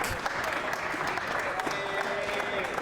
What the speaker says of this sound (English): a round of applause from the crowd who really enjoyed what they just got done witnessing here